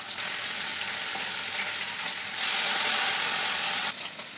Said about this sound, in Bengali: তেলটা গরম হয়ে গেছে, ভালো করে মাছগুলো একটা করে ছেড়ে দেবো।